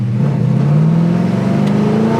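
A 1970 Chevelle SS V8 engine runs close by with a loud, lumpy rumble, its pitch climbing steadily as the revs rise over a couple of seconds, with no talking.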